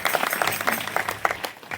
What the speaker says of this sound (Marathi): एकदा त्यांच्याकरता जोरदार टाळ्या होत्या.